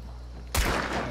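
A single sharp gunshot in the video game Hunt: Showdown, sudden and loud after a low background hum, with a brief rumbling tail.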